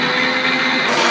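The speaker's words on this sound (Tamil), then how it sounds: "தேங்காய் போட்டு அரைச்சி தேங்காய் பால்" A blender grinds coconut for coconut milk, a steady loud whirring drone holding close and continuous throughout with a slight shift in pitch near the end.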